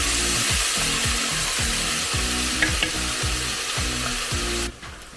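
Peppers sizzle and fry steadily in a hot pan, with a repeated scraping stir of a utensil roughly every half second, loud and close, before the frying drops away near the end.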